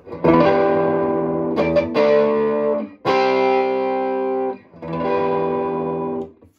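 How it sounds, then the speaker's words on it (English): Distorted chords on a Gibson Les Paul Studio electric guitar with humbucker pickups ring out in three sustained strums with short gaps, thick and saturated with a touch of effects, no voices. "This basically splits the humbucker into a single coil so you get them extra tones as well."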